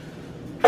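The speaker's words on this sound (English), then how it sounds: "because you're coughing." A child coughs once in a home kitchen while pancakes, eggs and bacon are cooking, a short, sharp burst at the very end after a quiet stretch.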